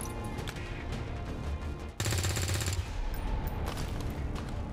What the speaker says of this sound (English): Pretty much everyone can shoot this guy.